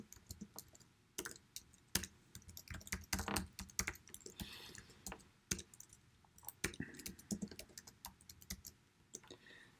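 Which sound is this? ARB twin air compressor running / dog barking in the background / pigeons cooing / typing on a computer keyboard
typing on a computer keyboard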